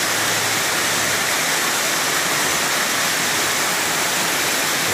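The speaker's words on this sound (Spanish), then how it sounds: "la cascada que le dio el nombre a Siloé" Waterfall of the cascade that gave Siloé its name, a steady loud roar of falling water filling the whole clip without pause and with no voices.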